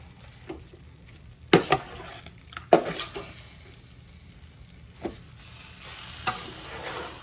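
Vegetables for home-canned vegetable stock browning in a pot turned up to high heat: a soft, low hiss with a few sharp utensil knocks against the pot, close by and otherwise quiet.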